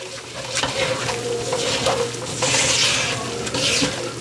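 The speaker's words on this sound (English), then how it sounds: "We making a roux." A roux for shrimp and crawfish etouffee stirred with a rubber spatula in a pot, a close continuous scraping and rubbing over a soft sizzle, with the strokes repeating steadily.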